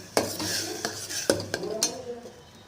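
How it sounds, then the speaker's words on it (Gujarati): Onion paste is stirred in a pan for a Gujarati dal dish, with a few sharp scrapes and clinks of the spoon against metal over a faint sizzle, close and fairly loud. "બરાબર હલાવી દઈશું બાકીની પેસ્ટ બધી જ આપણે એડ કરી દઈશું અને બરાબર તેને મિક્સ કરીશું"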